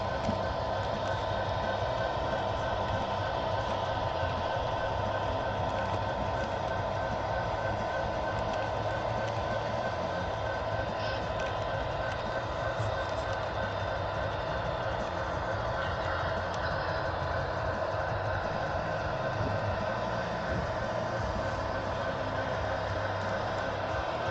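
A CSX model train runs on a small loft layout, giving a faint, steady rumble and clatter that continues unbroken for the whole stretch, with no talk.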